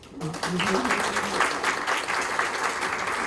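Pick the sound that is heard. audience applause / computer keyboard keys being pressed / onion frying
audience applause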